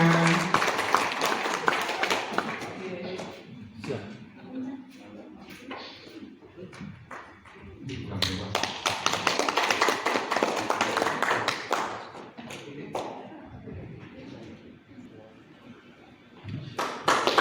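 Audience at a leadership training event clapping for Bapak Lukman, bursts of close, uneven hand claps that swell and fade in waves, with people talking over and between them.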